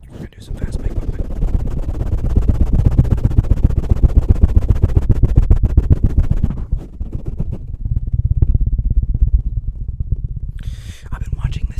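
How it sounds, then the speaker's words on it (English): Fast microphone pumping for ASMR, a rapid, steady train of close, muffled thumps and rubbing pulses that runs continuously, pauses briefly, then resumes at the same quick rhythm. "We're gonna do some fast mic pumping."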